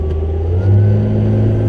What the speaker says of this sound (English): Engine's very responsive.